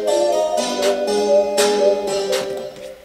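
A hip-hop beat plays a simple snare pattern layered with claps, sharp broadband hits landing at a steady rhythm over sustained melodic tones, loud and up close with no talking.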